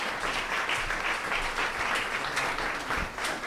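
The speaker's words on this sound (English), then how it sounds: "Give me another round of applause" Steady applause from an audience, dense clapping that fills the whole stretch without a break, fairly loud and close.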